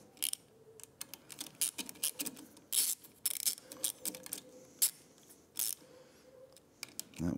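Rapid, uneven clicks of a ratcheting wrench tightening the handlebar bolts of a cafe handlebar kit on a 2024 Triumph Speed Twin 1200, close and moderately loud, coming in short bursts with brief pauses and no talking.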